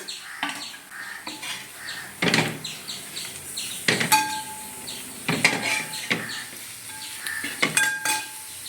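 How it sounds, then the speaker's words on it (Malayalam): Tomatoes go into a simmering white-cucumber fish curry and get stirred in the pan: scraping and clinking of a utensil against metal over a soft sizzle, close up, with no voices. "നമ്മൾ അതിന് വെച്ചിരിക്കുന്ന തക്കാളി ചേർത്ത് കൊടുത്തു"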